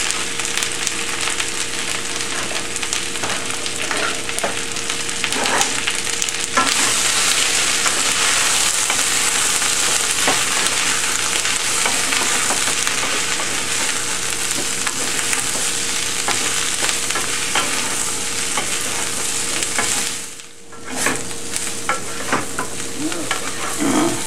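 Tofu sizzles and fries steadily in a hot wok for Kung Pao tofu, a loud continuous crackle with occasional stirring scrapes and a brief dip near the end.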